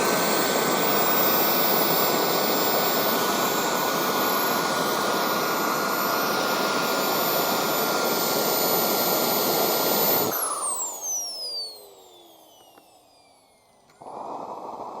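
A Kingtech K45G4 model jet turbine roars at full, steady volume on a test bench, a broad whine with high tones, then spools down abruptly into a falling whistle before a brief quieter restart.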